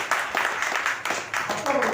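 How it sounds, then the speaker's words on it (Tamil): A crowd claps steadily at an opening ceremony for a lodge building in Chennai, a dense, moderately loud patter of hands with voices mixed in. "ஜோரா கைதட்டுங்க."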